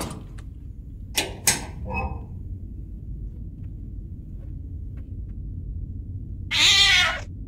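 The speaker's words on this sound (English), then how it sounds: "remember right, this is the cat." Cat meows twice in the horror video game Nightmare of Decay, short clear calls near the start, followed by a longer, louder yowl near the end over a low ambient game hum.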